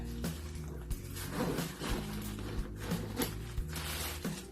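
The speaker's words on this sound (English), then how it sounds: "we're just gonna close it first. All the zippers." A bag's zippers being pulled closed one after another: quiet, scratchy zipping runs broken by small clicks and handling knocks, close by with no talk.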